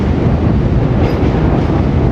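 A train passes directly overhead, a loud, continuous rumbling roar that fills the space below, with no talk.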